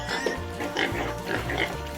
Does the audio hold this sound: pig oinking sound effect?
yes